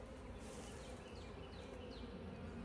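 Honey bees buzz in a steady, faint drone while being moved between hive boxes to build a nucleus colony, with no voices.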